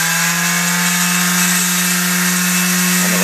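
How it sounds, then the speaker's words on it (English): A cryptex's outer ring rubs against an upside-down power sander, which holds a loud, steady, close motor whine with a continuous grinding rasp and a slight shift near the end. "I'm just going to run the outer ring over the top of the sander"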